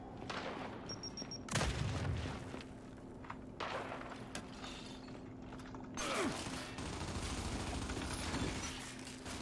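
A frag grenade blast in the Gears 5 video game, amid a distant sci-fi battle: mechanical clanks and scattered gunfire lead into a sharp, booming explosion, with a second heavy burst later, all moderately loud and without speech.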